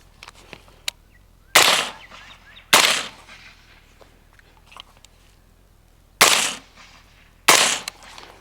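A rifle fires Lake City M193 rounds through a Carson 30 suppressor outdoors: four sharp, loud muffled cracks in uneven spacing, with faint ticks and quiet background between them.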